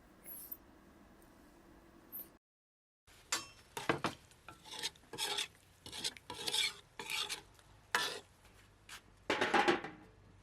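A spoon stirring and scraping duck curry in a cooking pot, a series of close, brisk rubbing strokes in uneven bursts after a brief pause, with no talking.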